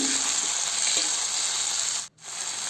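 Small tomato pieces fry in oil with a loud, close, continuous sizzle that breaks off for a brief moment near the end before resuming.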